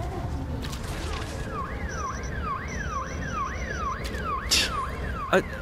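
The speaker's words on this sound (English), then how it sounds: "all of the car alarms in the immediate vicinity keep going off" Car alarms wailing in the video game Hard Reset, a repeating rising-and-falling electronic siren sweep with a steady high tone, looping continuously over game background noise, with a couple of brief sharp bangs near the end.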